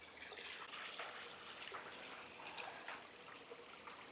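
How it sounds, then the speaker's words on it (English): Water flows down a small rocky cascade into a lake on a trail, giving a steady, soft splashing rush that holds evenly throughout with no voices. "It's definitely a cascade or a small waterfall."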